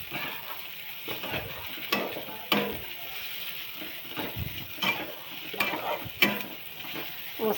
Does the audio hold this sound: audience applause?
no